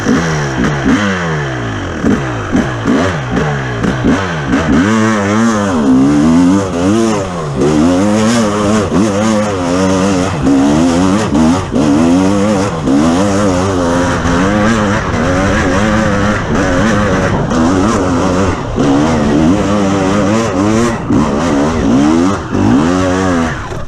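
A 2021 KTM 300 two-stroke dirt bike climbs a hill with traction control on, its engine loud and close, revving up and down in a steady, wavering rhythm across the whole climb.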